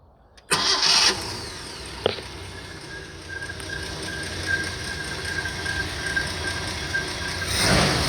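A Ford Granada 2.8 starting without throttle: a brief cranking burst, then the engine catches and settles into a steady idle with a faint high whine, recorded from outside the car.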